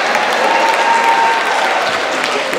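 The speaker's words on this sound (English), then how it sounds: "Clap it up for our volunteers." An audience at a Columbus City Schools professionalism talk applauds volunteers, with a steady, loud wash of clapping from a crowd that carries through without a break.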